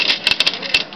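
A Smith Corona PWP 125 electronic typewriter types a quick run of sharp, close mechanical strikes in an irregular rhythm, crisp and fairly loud.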